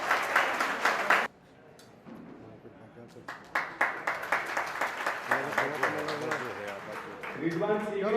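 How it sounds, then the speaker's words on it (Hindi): Audience at a community education seminar of the Jaipuri Luhar Samaj in Gujarat breaks into a short burst of loud applause, which cuts off after about a second as voices take over and carry on talking. "ऐसे शख्स के लिए जोरदार तालियां हो जाए।"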